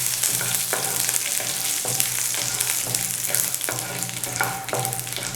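Chana dal, cumin and curry leaves crackle in hot oil for potato podimas, a loud continuous close-up sizzle broken by regular spoon scrapes and stirs, with no talking.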